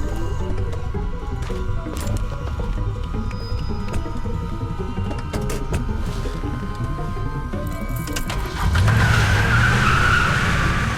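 A car in The Walking Dead game skids away, tires squealing loudly near the end after a stretch of engine noise and ambient game sounds.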